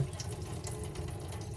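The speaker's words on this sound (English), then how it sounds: "So we're going to drain the salt water." Salt water drains into a sink as a steady, close stream of running water, with no voices over it.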